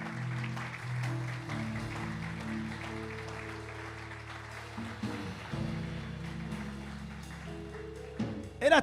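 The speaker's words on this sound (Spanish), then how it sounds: "Dale un aplauso al soberano." A church congregation applauds during a sermon, with soft clapping spread under sustained organ-like musical tones that hold throughout at a moderate, somewhat distant level.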